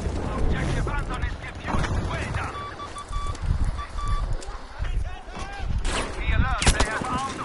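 Shotgun blasts ring out in a Battlefield match, several sharp reports scattered among busy game noise and other gunfire, with a player's voice talking over the action.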